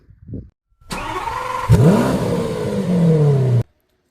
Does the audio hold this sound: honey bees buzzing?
no